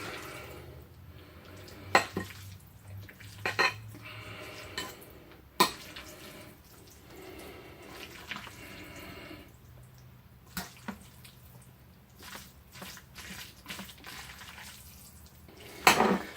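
Garlic buttered pasta being stirred and poked around in a bowl, with soft, close squishy rustles and scattered sharper utensil clicks against the dish at irregular intervals, quiet and without talk.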